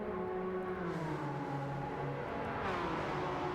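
Porsche Cup race car engine in Gran Turismo 7 at the Nürburgring Sprint, a continuous whining, buzzing drone that slowly drops in pitch and then climbs again as it revs, heard steadily and moderately loud with no voices.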